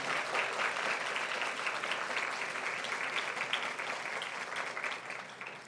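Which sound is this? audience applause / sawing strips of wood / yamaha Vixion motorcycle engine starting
audience applause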